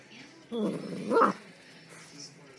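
A puppy gives a short burst of barks and yips, close and fairly loud, after faint earlier sounds, with quiet voices around it.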